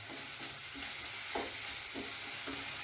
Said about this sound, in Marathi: जरा फिरवून घेते ते